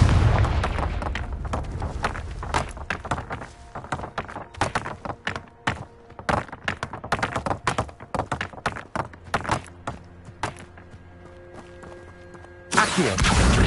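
Rapid spell blasts in Hogwarts Legacy, the Confringo blasting spell set off in quick irregular bursts of sharp thudding explosions over a quieter game backdrop, ending in a louder sustained burst.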